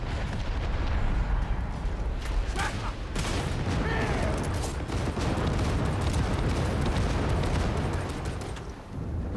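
A grenade goes off in the Darktide video game amid heavy combat, with booming blasts and a dense rumble of gunfire that stays loud and continuous, while in-game voices sound faintly underneath.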